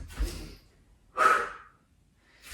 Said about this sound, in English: Nice noisy exhales.